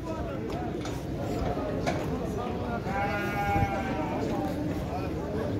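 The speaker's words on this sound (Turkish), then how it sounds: "Koyun, kuzu" Sheep and lambs bleat at a livestock market in Şarkışla, Turkey, several calls rising above steady crowd murmur and chatter, with a clear drawn-out bleat in the middle.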